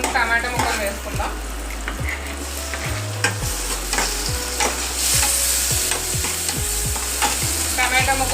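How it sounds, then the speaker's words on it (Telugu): Tomato pieces go into browned onions frying in hot oil for a fish pulusu. Loud, continuous sizzling is broken by repeated scraping stirs from a spoon, close and steady throughout. "ఇప్పుడు మనం టమాటా ముక్కలు వేసుకుందాం."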